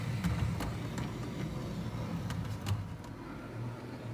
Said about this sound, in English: Here we can see the class 1-8 departing from the ABC section at one end of the shuttle route.